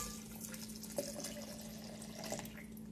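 Milk pours from a can into a blender that already holds drained canned sweet corn, a short soft liquid splash and trickle with a couple of small drips.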